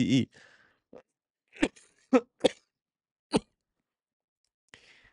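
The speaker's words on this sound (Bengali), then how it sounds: "মাফ করবেন, একটু শুকনো কাশি এসেছিল।" A man lecturing lets out a few short, dry coughs, four or five quick isolated bursts, close by with quiet gaps between, after a brief bit of speech.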